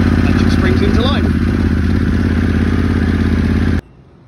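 Harley-Davidson Pan America motorcycle engine started with a single button push, loud close engine noise running steadily for several seconds before cutting off abruptly into near silence.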